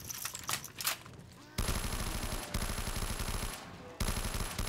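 Rapid automatic gunfire rattles in a Call of Duty Zombies custom map, starting after a second of softer game noise and continuing in loud, dense bursts with a brief gap near the end.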